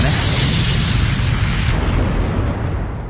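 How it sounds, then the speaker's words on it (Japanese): A big explosion sound effect made for anime rumbles loud and dense, a sustained booming roar that slowly fades over a few seconds. "大爆発。"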